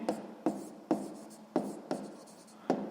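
Pen strokes writing out a sixth-grade math exercise solution on paper: six distinct scratchy bursts in a steady rhythm, close and fairly quiet, with no talking.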